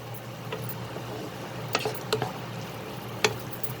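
Spoon stirring ground spices such as coriander powder and salt in a pan over medium flame for a yogurt and pointed gourd curry, with a faint steady sizzle and a few soft scraping clicks spaced apart, close by.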